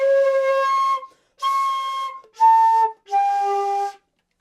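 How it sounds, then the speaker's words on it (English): Airy, spread flute tone produced by blowing too much air through a large embouchure opening: four sustained breathy notes, each about a second long with short gaps, played close and alone. "when we blow an excessive amount of air through a very large opening, we get a very spread sound."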